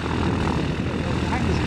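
A light propeller aircraft engine runs at Sywell airfield during the LAA Rally, a loud, steady, close drone that fills the whole moment without a break.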